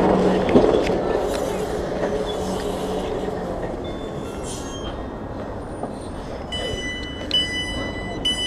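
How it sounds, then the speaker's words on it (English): A train pulling into a station platform, with a rumbling rolling roar, wheels squealing and high screeching tones building toward the end, plus a brief voice early on. "Oh, the train's coming."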